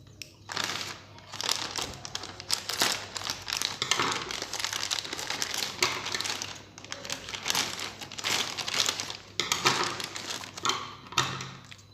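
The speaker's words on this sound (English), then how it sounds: "So we'll unbox it and then check what all is in this." A parcel of fountain pens, ink and nibs is unboxed, with continuous crinkling and crumpling of packaging, rustling and tearing in irregular bursts close to the microphone.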